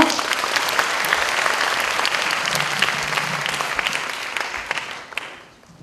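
Audience at a university admissions information session applauds to welcome a speaker to the stage, a lively burst of many hands clapping that holds steady and then tapers off near the end.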